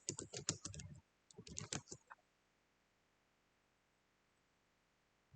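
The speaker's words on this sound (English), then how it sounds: "let me type" Quick bursts of clicky computer keyboard typing, two close flurries of keystrokes in about two seconds, then near silence.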